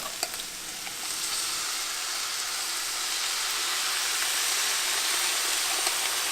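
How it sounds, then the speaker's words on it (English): Sauerkraut hits a hot pan of cabbage for a chicken dish, and the frying swells into a continuous, even sizzle and hiss heard up close without any voices. "Next, we're going to add in the sauerkraut."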